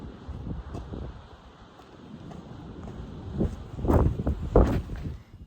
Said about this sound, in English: it's so windy you can't really hear me complain